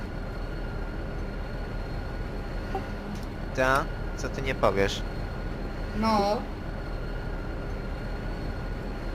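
Train ride in GTA San Andreas, a steady low rumble of rolling rail cars under Polish conversation, with a couple of brief rising whistle-like tones cutting through.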